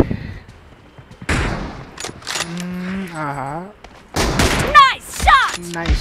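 Rifle shots from an M24 sniper rifle in a video game team deathmatch, a few sharp loud bangs between stretches of animated talking from players.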